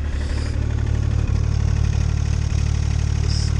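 An engine idles loudly nearby through a noisy muffler, a steady low rumble with a rough pulsing exhaust note that holds even throughout, with no voices.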